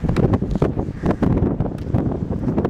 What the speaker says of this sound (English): A little bit windy up here.